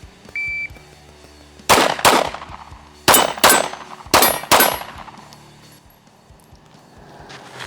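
Rapid pistol shots fired at targets through an optic, a quick string of sharp, loud cracks in close bursts of two, spaced across several seconds, with ringing tails and no talking.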